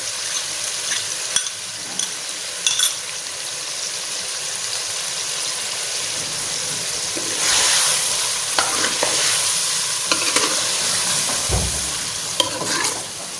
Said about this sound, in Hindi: अभी इसको अच्छी तरह करते हैं फ्राई। एक तो ये प्याज ब्राउन हो जाएगा, गोश्त भी अच्छी तरह पक जाएगा।